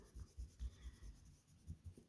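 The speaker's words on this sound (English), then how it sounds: "we can take a block eraser and just go over top of everything" A block eraser rubs back and forth over a pencil drawing on paper, giving a soft, close, rhythmic scrubbing of about eight quick strokes.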